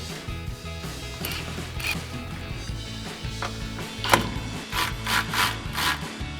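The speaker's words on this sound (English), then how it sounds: "we're going to grab our 10 mil socket. We're going to loosen up this ground bolt here." A 10 mm socket loosens a ground bolt on a 2014-2021 Toyota Tundra, giving close, steady scraping and rubbing with a few sharper metallic clicks toward the end.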